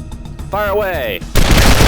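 Gunfire from a sniper rifle or heavier weapon in the Wasteland 2 video game: a burst of shots, then a loud, sustained noisy blast, with a brief tonal whine in the middle.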